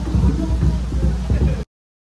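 Steady rain pattering on a surface close by, a dense continuous hiss that cuts off abruptly after about a second and a half.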